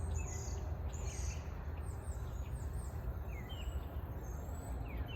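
Birds chirp and call in short scattered bursts over a constant low rumble of distant town traffic and trucks, heard outdoors on a fall morning nature walk among trees.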